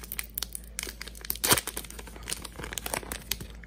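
A Pokemon card booster pack foil being torn open, sharp crinkles and rips with one loud tearing burst midway, close up and unbroken by talk.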